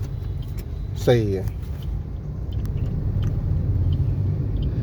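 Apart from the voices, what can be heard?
car moving off during a driving lesson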